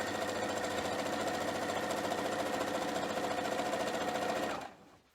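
A sewing machine used for sewing fabric masks runs at a steady, even speed, a loud continuous mechanical whir that cuts off near the end, leaving quiet room tone.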